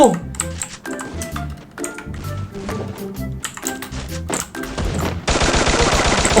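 Rapid bursts of gunfire from a newly unlocked gun in the Free Fire mobile battle royale game, loud and dense, mixed with in-game music and effects and ending in a steady harsh roar.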